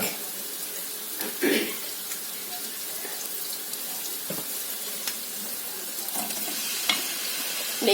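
Steady crackling sizzle of hot oil in a pan, continuous and fairly loud, with a few clinks and stirring scrapes on top.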